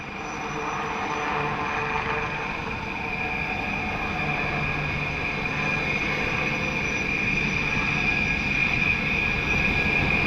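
A HAL Light Utility Helicopter performs low-speed maneuvers at the Aero India air show in Bengaluru, giving a steady, loud, continuous engine and rotor drone with a bright whine, sustained without a break.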